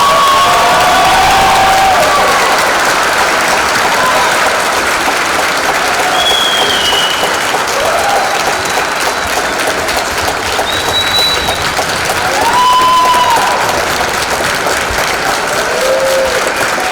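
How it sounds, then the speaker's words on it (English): An audience at a 2019 online high school graduation ceremony gives sustained, loud applause for the graduating class, with steady clapping throughout and scattered whoops and cheers rising above it. "Please join me in a round of applause for the class of 2019."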